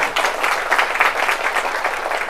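An audience at a gathering claps together in a dense, steady round of applause, loud and close throughout the short burst.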